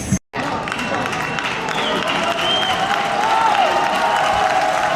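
A stadium crowd at a Dinamo Tbilisi football match applauds and roars as players come onto the pitch, a broad sustained wash of clapping and cheering with a voice heard over it.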